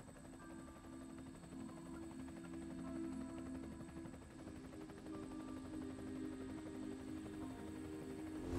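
A helicopter in Resident Evil 4 on PS2 whirs in a constant, moderately loud drone with a fast rotor pulse and low hum, heard alone without speech.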